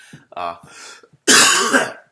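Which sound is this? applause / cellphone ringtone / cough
cough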